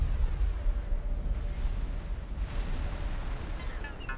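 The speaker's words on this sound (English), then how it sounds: "Look at those torpedoes hit." Heavy torpedoes pound an Argon defense platform in the space game X4: Foundations, a continuous deep rumbling barrage of blasts and booms with no letup.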